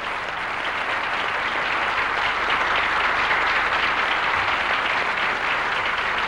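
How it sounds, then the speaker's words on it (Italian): Sustained, dense studio audience applause filling the whole stretch at steady loudness, with no talk over it, greeting a group on an Italian radio-style variety show. "un altro gruppo che io saluto con un applauso"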